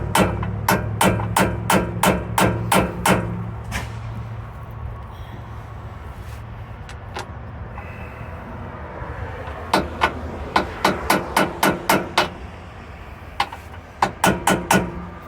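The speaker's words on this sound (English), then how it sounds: "I didn't think we were going to need a hammer, so I bought the smallest hammer I own" Sharp, evenly spaced metallic taps from a very small hammer striking in quick bursts, about eight blows at first, then another rapid series later with a few scattered hits between, close by over a low rumbling background.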